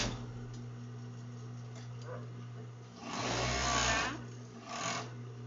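Domestic sewing machine stitching bikini fabric, a quiet steady motor hum with faint ticks, then a louder burst of rapid stitching that stops, starts again briefly and cuts off.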